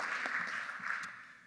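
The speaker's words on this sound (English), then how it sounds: "Let's give them a standing round of applause" Faint, steady applause from a church-style weekly meeting audience, a soft continuous patter of many hands held at a low level throughout the short stretch.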